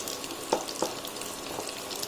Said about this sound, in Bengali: 2 পিঠ লাল লাল করে ভাজবেন।